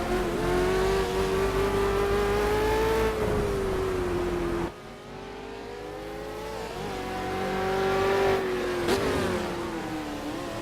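V8 Supercars Ford Falcon in Project CARS on the Nordschleife, its engine revving hard and holding a high steady whine, then dropping sharply at a gear change before climbing again, loud and close with no talk.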